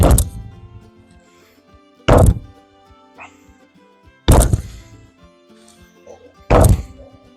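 Four heavy punches thud into a makiwara striking post, evenly spaced about two seconds apart, each a sharp impact with a short ringing decay, and nothing else fills the gaps.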